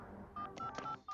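A few quick telephone keypad tones beep in succession over about a second, clear but quiet, with faint background noise.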